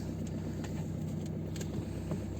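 A car engine, newly fitted with a fresh battery after failing to start in snowy weather, idles with a steady low rumble, close and constant, with faint ticking on top.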